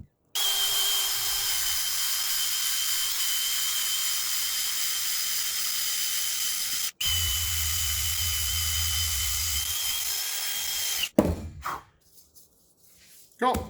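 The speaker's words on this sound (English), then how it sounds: "You can use a wire brush on a drill, emery cloth, anything that will really just clean that up real good." A wire brush spinning on a power drill scrubs rust off a car brake hub during a Brembo four-pot brake install on a Ford Focus ST225, a loud steady whine that runs unbroken, pauses briefly, then resumes before stopping.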